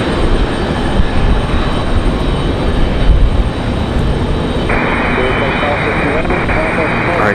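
A Boeing 777 departing Raleigh-Durham International roars loudly and continuously close by, a broad steady jet rumble that swells briefly midway, with talk over it.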